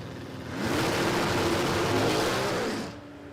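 Drag racing cars accelerate hard down the strip at Warwick Dragway, a loud engine roar swelling for about two seconds and then fading quickly as they pass into the distance.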